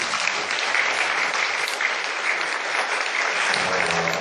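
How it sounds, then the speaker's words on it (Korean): Church congregation at Zion Presbyterian applauding together in a steady, dense wash of clapping that holds evenly for several seconds, with a faint voice near the end. "격려하는 의미에서 우리 성도님들 박수 보내주십시오"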